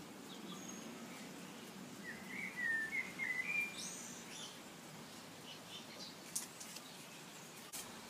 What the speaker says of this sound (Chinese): 听着小鸟在叫，在这画画